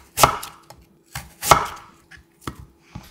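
A knife cuts peeled radish into 0.5 cm slices on a board, giving loud, close, crisp thunks. About five cuts come in an unhurried, irregular rhythm, each with a short wet crunch and brief silence between them.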